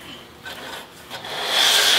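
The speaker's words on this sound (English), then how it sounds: "I'm just going to take kind of a damp cloth right here and just wipe off any dust" A damp cloth rubs across an antique wooden chair in soft, steady swipes, the scrubbing growing louder and brighter toward the end.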